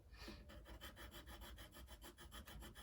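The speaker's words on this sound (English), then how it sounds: "And start building my values with 2B pencil." Graphite from a 2B pencil is rubbed steadily across paper to shade values, a close, continuous rasping scratch in quick repeated strokes, with no one talking.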